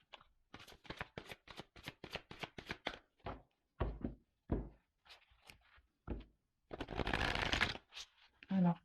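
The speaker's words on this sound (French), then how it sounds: "Allez, je prends encore quelques cartes." Tarot cards are shuffled close up, first as a rapid run of crisp flicking riffles, then a few scattered taps and slaps, and finally a dense, loud riffle burst near the end.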